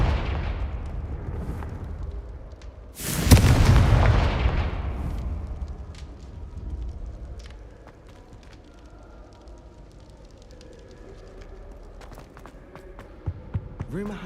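A sudden booming fire-spell blast from the Confringo curse in the video game Hogwarts Legacy, one loud explosion followed by a fading rumble and scattered softer in-game sounds.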